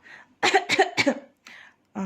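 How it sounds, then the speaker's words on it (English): A close series of sharp coughs, three quick ones in a row followed by a couple more after brief pauses. "We are coughing."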